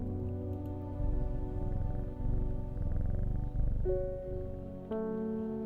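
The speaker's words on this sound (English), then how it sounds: "Let's hear that purr." A soft, steady video game cat purr rumbles low beneath a gentle tonal music background, continuous and fairly quiet.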